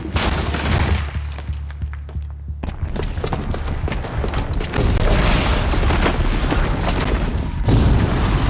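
A bomb explodes in the video game Horizon Zero Dawn, a booby trap set off downstairs: a deep, loud boom with thudding, crackling debris that rolls on and swells again near the end, with no talk over it.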